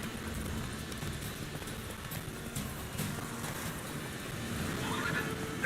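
Roach the horse runs in The Witcher 3, with steady hoofbeats drumming under a low rumble and a brief whinny-like call near the end.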